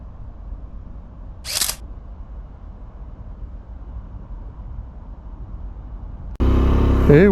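A single sharp camera shutter click sounds close by during a stop on a motorcycle ride near the Pont Valentré in Cahors, over a low idle rumble, and a motorcycle engine then starts up loudly at the end.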